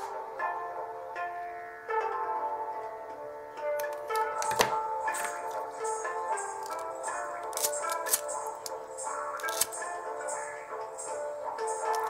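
Scissors snip jewellery wire with a series of sharp, bright clicks and ticks, close and fairly quiet, scattered irregularly over faint background noise.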